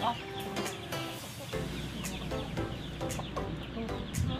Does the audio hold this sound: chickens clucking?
yes